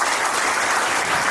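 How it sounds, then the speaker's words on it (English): Steady audience clapping for teachers at a school felicitation ceremony, a dense continuous wash of hands filling the room, close and even, with no voices on top. "I want a clapping for them"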